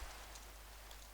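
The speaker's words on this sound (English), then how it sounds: "So we're gonna let it rain a bit." Steady rain in Minecraft makes an even, dense hiss, soft and continuous throughout.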